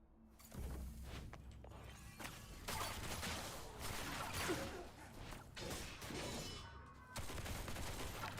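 Gunshots fired at powder kegs to set them off in the video game Duet Night Abyss, a dense run of overlapping bursts with whooshes and crashing blasts that fill the whole stretch at a steady, fairly loud level.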